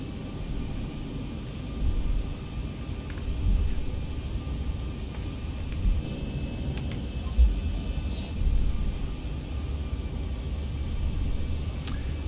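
A ZIBO Boeing 737 in X-Plane 11 rolls for takeoff at Dallas–Fort Worth, a steady low jet-engine rumble and broadband roar holding fairly even throughout, with a few faint thumps and clicks over the top and no talking.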